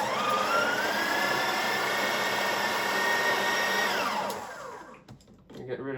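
A Breville Oracle BES980BKS espresso machine grinds coffee, giving a loud steady whirring drone with a rising tonal whine that stops abruptly near the end, leaving faint clicks and rattles.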